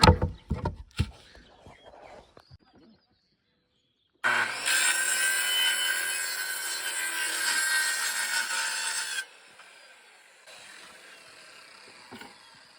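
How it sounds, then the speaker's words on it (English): A hand saw cuts through scrap plywood along a straight marked line, a steady rasping stroke of about five seconds following a few sharp knocks, with quieter scraping afterward. "cutting a straight edge with a line drawn off a 2x4"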